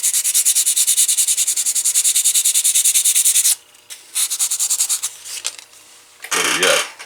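Hammer handle scuffed with 220-grit sandpaper: fast, loud rhythmic rasping strokes for several seconds, then a pause and shorter bursts of sanding.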